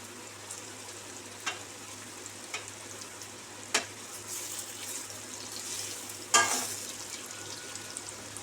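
Masoor dal piyaji fritters fry in hot refined oil on a gas flame, a steady quiet sizzle broken by a few sharp pops and clinks as they are turned.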